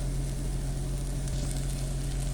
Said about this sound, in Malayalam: ഉരുളക്കിഴങ്ങും ഈ മസാലയുടെ കൂടെ നല്ലപോലെ ഒന്ന് വഴറ്റിയിട്ട് ഒരു 4-5 സെക്കൻഡ് ഇളക്കുക